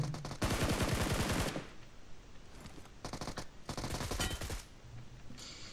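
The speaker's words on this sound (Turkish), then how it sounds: "Arkadaşlar ben vurmam gereken adamı vurdum" Automatic gunfire from a video game, with loud rapid bursts of machine-gun shots in several separate volleys and short quieter pauses between them.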